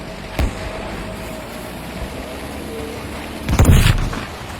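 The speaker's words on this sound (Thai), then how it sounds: "ระเบิดลงแล้วระเบิดลงแล้ว" Bomb explosions in Battlefield V: a short low thump near the start, then a louder, deeper blast that rumbles for about a second over a quiet wartime background.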